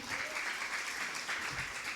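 A church congregation claps steadily at moderate volume, the patter of many hands continuous and somewhat distant.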